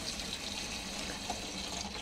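A watering can fills from a garden dip tank, giving a steady, hissing rush of pouring water that stays even throughout, fairly quiet and with no talking.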